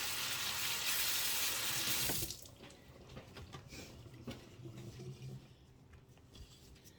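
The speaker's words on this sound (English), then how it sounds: "Let me rinse my hands" Tap water runs steadily and loudly for about two seconds while hands are rinsed at a sink, then shuts off, leaving quieter drips and small handling noises.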